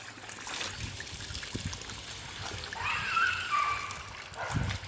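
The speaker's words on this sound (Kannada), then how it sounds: "ಬಟ್ಟೆ ಜಾಲಿಸ್ತಾ ಇದ್ದಾರೆ" Clothes are rinsed under running water at a stone laundry slab. Splashing, trickling and sloshing rise and fall, with a louder burst of splatter midway.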